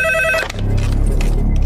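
A telephone rings during an outgoing call, a loud close electronic ring tone that sounds briefly then cuts off into a low rumbling background.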